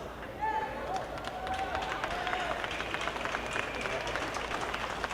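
At a graduation ceremony, a crowd gives a round of applause: a dense wash of clapping mixed with cheering voices and shouts, lively and sustained under a noisy room.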